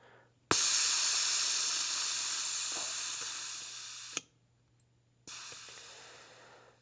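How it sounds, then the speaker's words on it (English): Pressurized air hisses loudly from the Schrader valve of a 2017 Kawasaki KX450F motocross air fork as a screwdriver presses it open, a steady rush that tapers, stops, then resumes in a second shorter burst. "we're going to let the air out of the Schrader valve with a little screwdriver or something like that"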